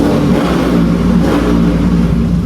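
Motorcycles on a group ride rev their engines inside a tunnel, a loud, sustained roar that echoes and swells without pause.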